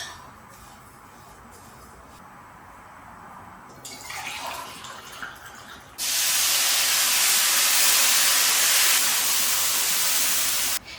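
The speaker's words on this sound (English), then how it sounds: "I'm adding in cold water, tap water, in which way there will be no lumps." Cold tap water pours into a pan of roasted Bombay rava and vegetables: a short splash, then a loud, steady hissing gush that runs for several seconds before stopping abruptly, with no talk.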